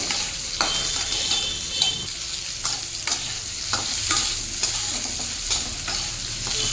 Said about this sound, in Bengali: এখন দিয়ে দেবো এর মধ্যে কেটে রাখা আলু, রাঙালু এবং বেগুন, সবগুলোই একসঙ্গে ভাজতে থাকবো।